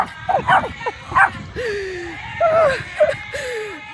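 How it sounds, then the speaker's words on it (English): Dogs close by and loud, giving a run of short sharp yips followed by drawn-out whining whimpers that rise and fall. "Ah, the dogs."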